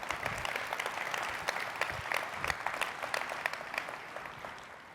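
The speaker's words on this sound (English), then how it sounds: "Round of applause." A keynote audience at a data streaming conference breaks into steady applause, a dense clatter of many hands clapping that fades slightly toward the end.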